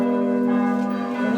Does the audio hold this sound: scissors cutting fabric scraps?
no